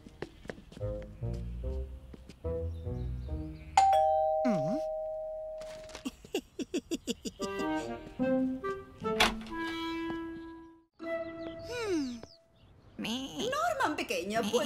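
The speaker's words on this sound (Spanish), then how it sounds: "Voy a pulsar el timbre." Doorbell chimes ringing in the animated series Fireman Sam, a bright electronic tone among cartoon music and sound effects, with voices talking around it.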